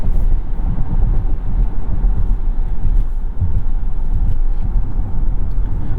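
2021 Volvo XC60 T8 Polestar plug-in hybrid at full throttle on kickdown, its gas engine droning loud and low with dense road and cabin rumble, continuous and close.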